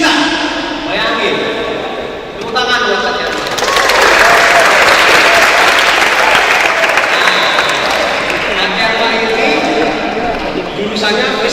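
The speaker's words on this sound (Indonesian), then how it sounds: "Tepuk tangan buat Kak Tiarma." An indoor audience at an education talk bursts into sustained applause, building after a couple of seconds into dense clapping and cheering that continues steadily throughout.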